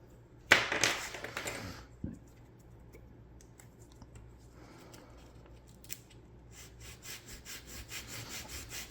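Sandpaper rubs an angle into a wooden model boat, a sharp scratchy stroke at first, then quieter intermittent rasping that builds into a quick run of short, rhythmic strokes, close and alone.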